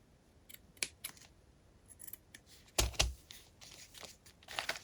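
Scissors cut paper for a junk journal folio, a series of crisp snips, some in quick pairs and one louder close double cut, in an otherwise quiet room.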